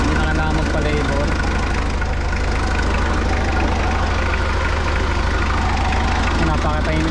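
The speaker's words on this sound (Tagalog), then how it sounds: "Napakatahimik na makina. Walang vibrate masyado mga idol." Car engine idling smoothly after a fuel filter replacement, a steady even hum with faint rhythmic ticking, close by and continuous with a voice talking over it.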